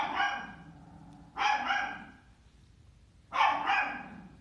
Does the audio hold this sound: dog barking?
yes